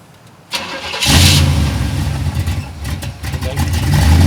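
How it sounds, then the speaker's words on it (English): A carbureted 1972 Chevrolet Corvette Stingray engine cranks briefly and catches after a single pedal pump, then settles into a loud, rough, uneven idle with slight throttle blips, heard close up without talk. "not used to a carburetor. Just one pump, start it."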